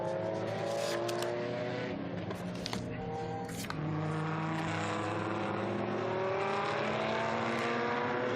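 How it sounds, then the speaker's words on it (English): Historic race cars, a Chevrolet Corvette among Porsches, roar past on a circuit with rising and falling engine notes and layered revving at a distance, continuous throughout. "Chevrolet Corvette there amid the Porsches."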